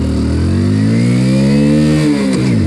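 A 2022 Hero Splendor Plus Xtec motorcycle pulls away in first gear, its engine note rising steadily in pitch as it accelerates, then dropping near the end, loud and close.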